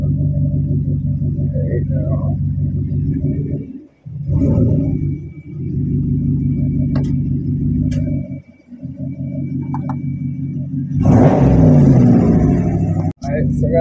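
An Audi A4 with an ALH TDI diesel engine and 6-speed transmission idles and creeps forward over wooden boards into a garage with a dip, a loud low rumble that briefly drops out and surges with revs near the end.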